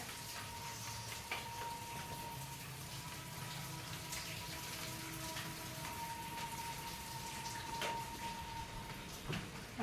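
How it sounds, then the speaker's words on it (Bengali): Light drizzling rain patters steadily, a soft continuous hiss of drops with no voices. "ঝিরিঝিরি বৃষ্টি হচ্ছে বেশ ভালোই লাগছে বৃষ্টিটা একটু হালকা হালকা বৃষ্টি হচ্ছে"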